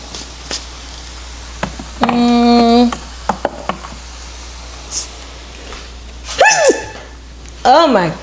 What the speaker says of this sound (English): Ain't seasoned if you ain't sneezing.